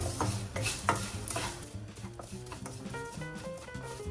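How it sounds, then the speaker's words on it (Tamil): Millet flattened rice roasts in ghee in a pan for aval payasam, with close, continuous scraping and stirring of a spoon over a faint sizzle. "அந்த நெய்யிலேயே அவலை நல்லா வறுத்து எடுத்துக்கலாம்."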